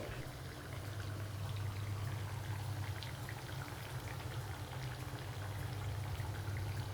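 Banana fritters (pazham pori) frying in hot oil, a steady dense crackling bubble that runs evenly and fairly loud for the whole stretch, with no talk over it.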